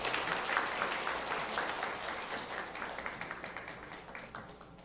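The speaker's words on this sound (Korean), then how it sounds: "하나님께 영광의 박수 한 번 더 올려드리겠습니다" Church congregation at an Easter service claps in praise to God, a lively round of applause that starts full and gradually thins into scattered, rhythmic claps as it fades toward the end.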